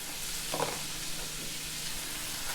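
Chopped onions and celery fry in a pan of reduced liquid for dirty rice, a continuous close sizzle with a brief stirring scrape near the start, steady and moderately quiet, with no talking.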